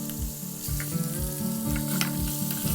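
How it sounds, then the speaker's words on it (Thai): Pork pieces frying in hot oil until crispy and golden, giving a dense, continuous close sizzle and crackle with a rhythmic bubbling pulse and no voices. "เราจะทอดหมูให้กรอบก่อนนะคะ ให้มีสีเหลืองแบบนี้"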